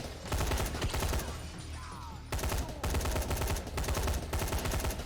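Automatic weapon fire in the zombie survival game Dying Light, loud rapid bursts of gunshots with a short pause midway, each burst lasting about a second.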